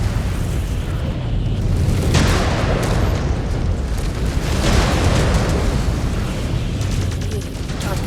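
Heavy, sustained explosion rumble from the MechWarrior 5: Clans video game, a dense booming roar with a few stronger bursts rolling through it and no pause.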